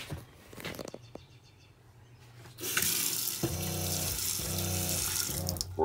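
Water gushes from the sink faucet of a cattle stock trailer converted into a toy hauler with living quarters, fed by a 12-volt pump from a 30-gallon tank. After a quiet start, the close, steady splashing arrives with a pulsing pump hum underneath.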